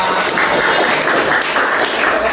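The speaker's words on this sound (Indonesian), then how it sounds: "Tepuk tangan untuk kita semua" A classroom of pupils claps together before an IPAS lesson on renewable energy, a dense, loud, even burst of applause that holds steady throughout with no talk over it.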